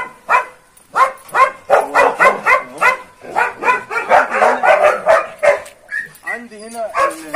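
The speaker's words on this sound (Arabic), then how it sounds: "هنا دي الكلاب يا جماعه اهي" Several dogs on a farm barking loudly and repeatedly close by, a rapid overlapping chorus of barks and yips with some whimpering, while someone speaks between them.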